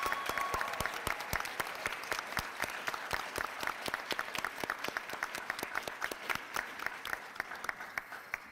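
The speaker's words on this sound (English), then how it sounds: "Let's give our graduates one more really loud," A crowd gives a loud round of applause for graduates at a School of Education pinning ceremony. Dense, sharp individual claps carry throughout at a steady high level.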